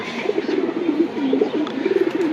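A racing-type pigeon coos in a steady run of low, throaty burbles, close and fairly loud, with no talking over it.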